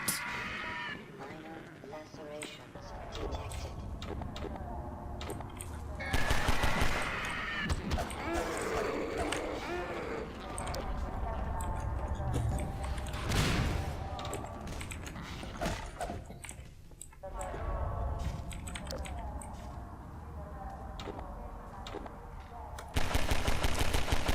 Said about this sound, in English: Just shooting zombie after zombie after zombie